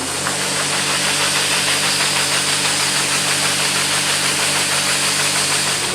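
A combine harvester engine runs during a soybean harvest, giving a loud, steady, close drone with a low mechanical rumble and a broad hiss that holds at one level throughout.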